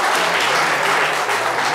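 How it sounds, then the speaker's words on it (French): Sustained, loud audience applause fills the space as a mother is welcomed on stage, steady and dense throughout with no talking over it. "Applaudissez pour notre maman"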